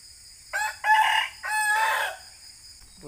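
Loud honking calls from a goose, two long strident cries in quick succession, close by over a quiet background.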